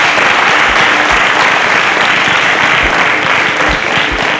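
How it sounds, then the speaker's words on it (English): A studio audience on a contest show claps loudly as the contestants leave the stage, a thick continuous wall of applause with no voices over it. "A round of applause for them as they exit the stage."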